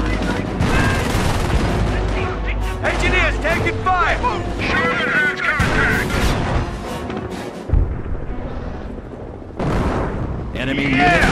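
Gunfire and artillery in the WWII strategy game Company of Heroes: dense rattling machine-gun bursts and booming shell impacts throughout, with radio-style unit voices talking over the battle.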